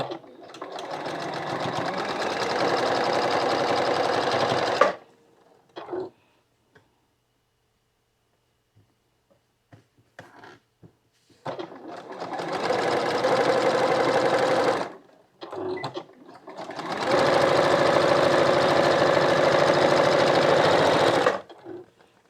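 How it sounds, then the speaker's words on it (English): A sewing machine runs in three bursts of steady stitching on narrow quilt-block fabric scraps, with a quiet stretch of small clicks and handling noises between the first and second runs. "I'll start sewing."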